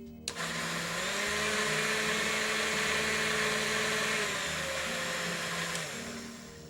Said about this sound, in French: 6 centilitres et 80 grammes de beurre. Et on mixe encore de nouveau.